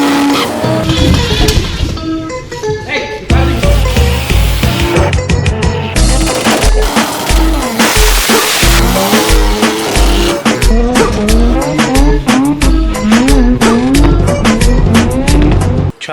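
An FC car does a tire burnout, loud engine revs rising and falling in rapid bursts alongside harsh, sustained tire squeal and screech, close and intense for about sixteen seconds.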